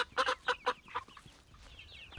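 Big Red Broiler chickens give a short burst of several soft clucks, fairly close but quiet, then trail off into low background noise.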